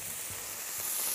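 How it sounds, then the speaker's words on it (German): Fish seared in a hot frying pan after coming out of the oven gives a steady, fairly loud sizzle and hiss, with a couple of soft low bumps and no voices. "Jetzt kann der Fisch auch schon vom Ofen in die Pfanne."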